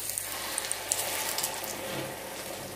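Eggs frying in a pan of oil for a Thai omelette, a steady bright sizzle with scattered pops and crackles, close and continuous throughout.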